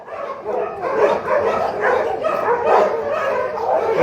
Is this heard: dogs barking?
yes